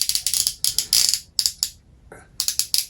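Ratcheting arm joints on a Hasbro Ninja Storm Red Ninjakon 7-inch action figure give out close, loud bursts of rapid plastic clicks, several clusters with short pauses between them.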